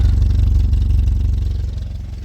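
A used car engine with a recently replaced exhaust runs steadily close by, giving a loud, even low rumble with a fine rhythmic clatter throughout and no voices over it.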